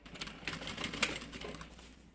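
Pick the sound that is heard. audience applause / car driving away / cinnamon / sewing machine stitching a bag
sewing machine stitching a bag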